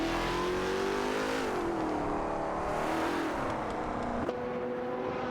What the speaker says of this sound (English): Let's enjoy the AI cars tearing up the circuit together.